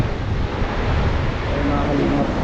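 Big ocean waves surge and rumble in a constant, heavy wash mixed with buffeting wind noise on the microphone, close and loud throughout.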